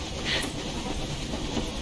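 Train rolling along in Metro Exodus, a steady broadband rumble of wheels and carriage noise with faint hiss, continuous and fairly even throughout without voices.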